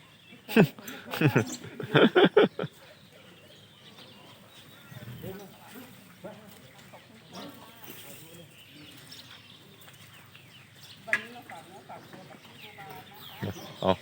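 Chickens cluck at a farm, a few loud bursts near the start followed by scattered fainter clucks, with someone talking underneath throughout.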